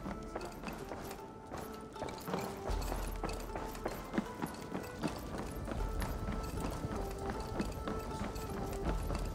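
Horse hooves galloping in Assassin's Creed Valhalla, Wrath of the Druids, near Dublin's gates; a fast, steady clip-clop rhythm runs continuously under game music and ambience, fairly loud and close.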